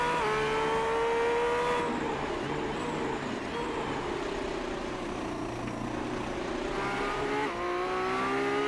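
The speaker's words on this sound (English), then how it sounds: "Listen on board to that free-revving Acura engine." An Acura IndyCar-derived racing car engine in a racing video game revs continuously at high pitch, rising and falling through gear shifts at the Long Beach circuit, loud and close with no talking.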